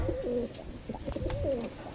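Rajasthani Kalmoy and Bajra pigeons cooing nearby, two soft rolling coos with a few quieter murmurs between, close and alone over a low background hum.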